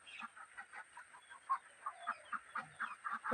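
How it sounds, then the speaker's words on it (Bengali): Chickens clucking in short, irregular bursts while feeding around a rural Bangladeshi homestead near bamboo and a small pond, several birds close by with no talk over them. "দেখো এখানে মুরগি খাবার খাচ্ছে, খেয়ে এসেছে।"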